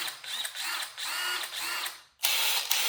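Power drill whirring in steady bursts with short pauses, its motor pitch rising and falling between runs, close and loud and alone before a brief silence and another burst.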